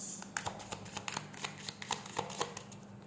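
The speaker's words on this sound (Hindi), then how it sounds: "Let me pull some more cards." Tarot cards shuffled by hand, a steady run of quick riffling flutters and soft card slaps, close and fairly quiet, with no talk.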